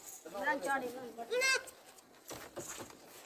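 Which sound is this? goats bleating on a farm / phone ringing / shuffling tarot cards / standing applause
goats bleating on a farm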